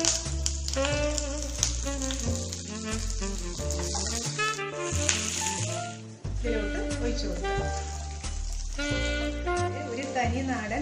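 Mustard seeds, curry leaves and green chilies sizzle and crackle in hot oil for a Kerala masala curry, the frying audible throughout beneath a continuous talking voice and music.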